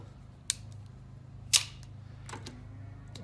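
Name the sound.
crimping pliers crimping a wire eyelet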